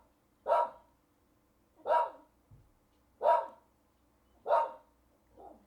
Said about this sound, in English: It's good to have a guard dog.